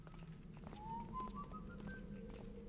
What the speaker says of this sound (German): alles lustig pfeifend hier.